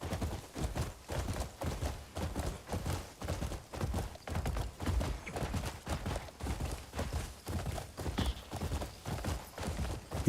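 Steady, rhythmic hoof clopping of a trotting horse in the video game Crimson Desert, close and fairly loud, continuing throughout with no voices.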